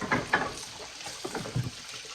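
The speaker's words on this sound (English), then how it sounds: "This is nice hot soapy water, so using that up here." Hot soapy water running and splashing in a kitchen sink while glass canning jars are washed, a steady low trickle with a few louder sloshes and clinks near the start.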